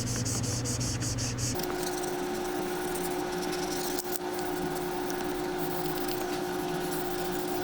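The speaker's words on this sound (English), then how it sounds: "then just follow with our squeegee to tack" Squeegee pressing vinyl skin onto an Asus Zephyrus G16 (2026) laptop, a steady close rubbing, scraping hiss that runs the whole time with a brief shift partway through.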